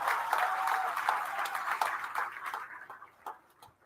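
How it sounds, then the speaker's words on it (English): A crowd at a political party convention in a town square claps for the party leadership, a dense round of applause that gradually thins and fades out over a few seconds. "I think that deserves a round of applause for our astute leadership"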